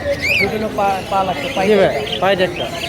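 Pet birds such as cockatiels and white-face cockatiels call at the Mirpur bird market in Dhaka, with repeated chirps and squawks close by, mixed with market chatter and people talking throughout.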